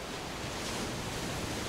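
Surf rolling onto the sand at Moruga Beach on the Caribbean coast of Trinidad, a steady broadband wash of ocean waves heard alone with no voices, constant and full throughout.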